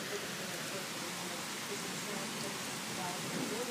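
Heavy rain pours steadily onto a flooded garden during a thunderstorm, a dense, even hiss of water with no voices, sustained close by throughout.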